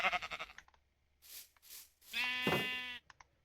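A sheep in a video game bleats twice, close and clear, with short quiet gaps before and after; the second bleat is longer and more drawn out.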